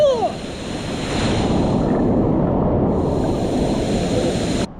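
Rushing water on top of a waterfall, a loud continuous broadband roar with some wind buffeting on the microphone, steady for several seconds and ending abruptly.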